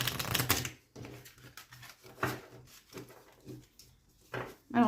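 A deck of tarot-style cards shuffled and handled at close range, with soft riffling and slapping bursts at the start and scattered lighter card flicks and rustles afterward, no talking.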